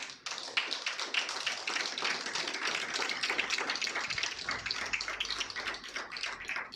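A church congregation breaks into loud, sustained applause, dense rapid clapping that runs steadily throughout without pause.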